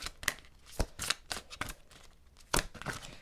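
Tarot cards being shuffled and drawn for a reading, a run of crisp papery riffles and flicks in uneven bursts, close and fairly quiet with no talking.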